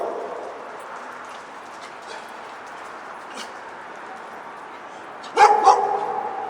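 Several dogs bark and yip near the end after a long stretch of low background noise, with a few sharp, close barks in quick succession over a steady hiss.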